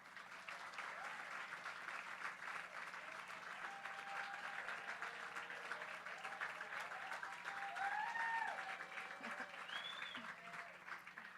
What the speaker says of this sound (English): Let's give all our winners one more big round of applause.